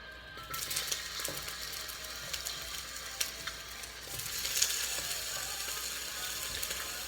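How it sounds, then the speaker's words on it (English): Onions frying in a wok over low heat, a steady soft sizzle that starts abruptly and holds, with occasional faint clinks, quiet and close with no talk. "I'm going to add the onions first."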